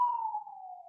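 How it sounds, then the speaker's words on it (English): A single steady police siren tone slowly drops in pitch, faint and distant, with nothing else audible around it. "you may be hearing the sirens in the background"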